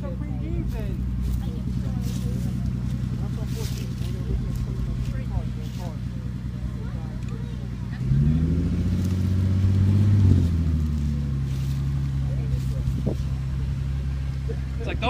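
An Acura Legend sedan engine with a misfire idles roughly with uneven, stumbling pulses, then revs up for a couple of seconds and drops back to a lumpy idle, with voices talking over it.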